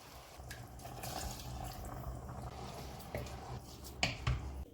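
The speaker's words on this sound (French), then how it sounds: "J'ajoute 200 ml d'eau." Water is poured into washed rice in a cooking pot, a soft continuous trickle and splash with a few small clinks, fairly quiet and close.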